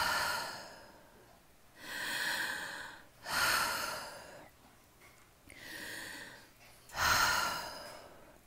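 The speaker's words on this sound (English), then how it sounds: "They looked at each other and then both took 3 deep breaths together." Three deep breaths drawn together by a parent and child, each a broad, airy inhale-exhale swell spaced a couple of seconds apart, close and fairly loud with no talking.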